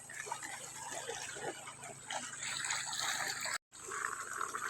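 Water pours into a farm reservoir from a water pump, a steady splashing gush that continues almost without pause, broken only by one brief cut near the end.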